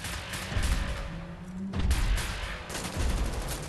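Machine gun fire in the first-person shooter Wolfenstein: The New Order: several dense bursts of rapid gunfire in quick succession, loud and close, with a brief lull between volleys.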